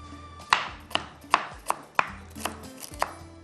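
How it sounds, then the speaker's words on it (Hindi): Ginger being chopped finely with a knife, about eight sharp, crisp knocks on a board at an uneven pace, close and clear, without talk. "अदरक हम ज़रूर काट के डालेंगे, बारीक बारीक कटी हुई।"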